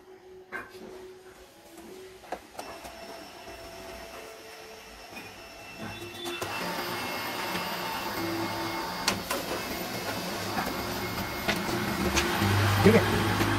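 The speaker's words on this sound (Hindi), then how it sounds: "इस तरह से हमारा ये प्रिंटर है ये कैनन का cannon image class MF221D model का प्रिंटर है" A Canon imageCLASS MF221D laser printer runs after a power restart, a steady mechanical whir and hum that grows louder partway through, with clicks and rising motor noise near the end.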